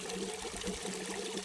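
Water returning from an Oase Filtoclear pond filter hose held above the water level, a steady close splashing and trickling into a garden pond, continuous with no talking.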